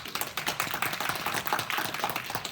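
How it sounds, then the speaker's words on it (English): A small group claps for speakers at an elevator speech training session, with scattered, uneven hand claps that sound fairly sparse and distinct rather than a thick roar, heard fairly quietly without talk. "Let's give them a round of applause"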